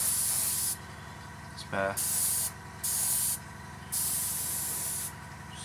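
Airbrush spraying paint onto a Revell 1/48 Junkers Ju52/3m scale model, a steady hiss in several bursts of about a second each, with someone talking briefly between them.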